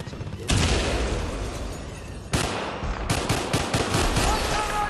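Rapid gunfire from a gun in the Bad Company 2 video game, loud continuous bursts of automatic shots with sharp cracks and rolling booms, close and dominating the mix.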